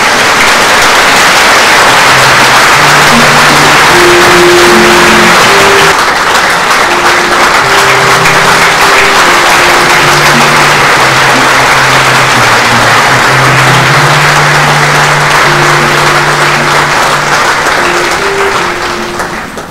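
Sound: congregation applauding at a funeral mass

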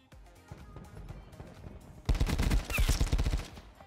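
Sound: Tigershark burst rifle shots in a video game

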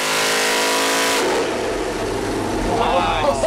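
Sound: supercharged Cadillac LSA 427 engine revving on dyno

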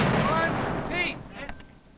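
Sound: cannon firing in a siege re-enactment

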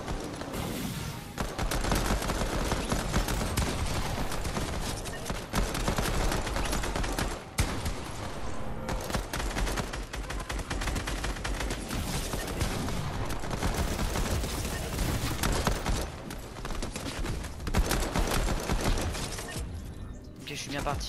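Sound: pistol gunfire in video game Gun Game mode

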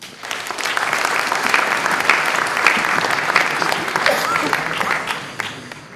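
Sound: audience applause

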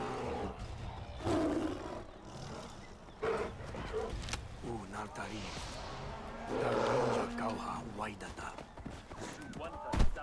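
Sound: tiger roaring in video game Far Cry Primal

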